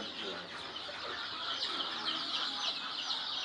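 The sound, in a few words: chicks in their cage at a poultry centre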